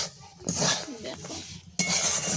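Semolina stirred into boiled vegetables in a pan for a spicy Bengali suji dish, a spoon scraping and clinking against the metal in close, uneven strokes over a faint sizzle.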